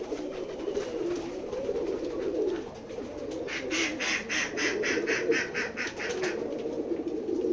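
Pigeons on a pigeon farm in Keshabpur, Jessore, keep up a dense, steady murmur of cooing, with brighter flutters and chirps rising in the middle stretch; no one speaks.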